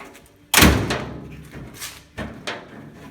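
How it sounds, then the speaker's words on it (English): A Ford Model T car door shuts with a sharp, heavy thud, followed by a few softer metallic knocks and rattles as it is worked again, close by with no talking. "We got reassurance that the door works."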